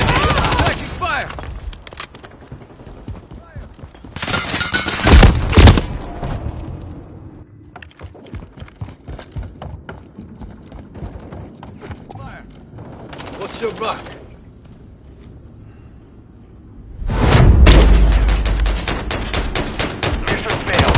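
Gunfire in Call of Duty Modern Warfare III multiplayer, with loud bursts of automatic rifle fire in rapid volleys, heavy clusters at the start, middle and end separated by quieter stretches of scattered shots and game sounds.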